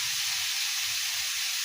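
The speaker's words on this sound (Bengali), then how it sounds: "আর উচ্ছে কুমড়োটা ভেজে রাখছি" Bitter gourd and pumpkin fry in a pan with a loud, steady, close-up hiss of hot oil that runs unbroken from start to end, without any talking.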